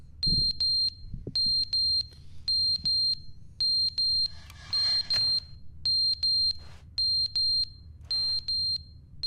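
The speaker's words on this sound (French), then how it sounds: "Qu'est-ce qui bip comme ça?" In The Stanley Parable, a shrill electronic alarm beeps steadily in quick repeated pairs over a low background hum, with faint rustling noises in between.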